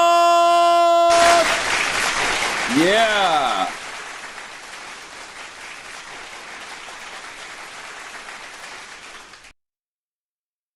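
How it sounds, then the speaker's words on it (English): A sudden burst of audience applause breaks in after a voice and carries on as a dense, steady wash of many hands for several seconds, easing slightly before cutting off; a voice briefly calls out during it. "Big round of applause!"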